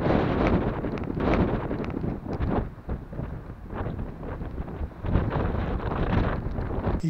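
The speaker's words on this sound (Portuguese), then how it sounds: "muito frio, muito vento, chuvoso" Strong wind gusts roar across a campsite in cold, rainy weather near Morro Grande, Rolante, RS, buffeting the microphone in a continuous, loud, rushing wash that swells and dips without pause.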